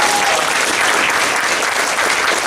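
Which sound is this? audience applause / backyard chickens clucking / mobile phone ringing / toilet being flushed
audience applause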